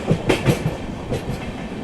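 Amrit Bharat Express running beyond Kanpur toward Lucknow, a steady loud rumble of the moving coaches with rhythmic clickety-clack wheel beats over rail joints, heard from inside the train.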